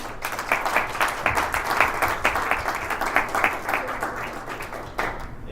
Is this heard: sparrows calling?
no